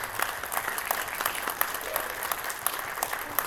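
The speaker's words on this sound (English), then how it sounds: "Another round of applause," Audience applause closes a cybersecurity conference talk on a B-side stage, a steady, moderately loud wash of clapping with scattered sharper claps throughout.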